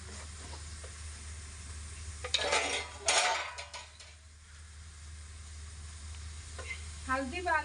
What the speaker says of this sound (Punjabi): ਪਿਆਜ਼ਾਂ ਨੂੰ ਆਪਾਂ ਮਿਕਸ ਕਰ ਲੈਣੇ ਚੰਗੀ ਤਰ੍ਹਾਂ